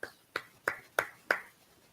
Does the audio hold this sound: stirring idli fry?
no